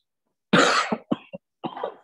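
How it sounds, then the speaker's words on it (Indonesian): A man gives a single loud, harsh cough in a university finance math classroom. It is followed by a few shorter throat-clearing hacks, close and abrupt against otherwise silent air. "batuknya kenceng banget"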